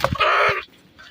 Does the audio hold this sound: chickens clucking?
yes